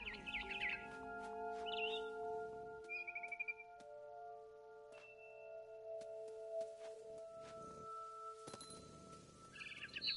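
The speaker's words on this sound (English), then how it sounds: "Then I heard chirping outside my window. It was a barn swallow going back to her nest." Bright, sparse barn swallow chirps and tweets in the video game What Remains of Edith Finch sound over a quiet backdrop of steady electronic tones, with short bursts of calls at the start and end.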